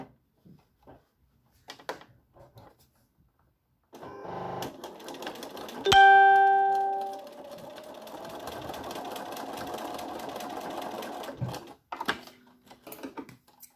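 A sewing machine stitches the ear of a fox toy in short bursts, then runs a longer steady seam after a sharp clunk, with handling noises between runs.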